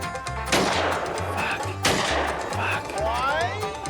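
Shotgun blasts at clay targets ring out, two sharp loud reports about 1.4 seconds apart with echoing tails, while a voice speaks briefly in between.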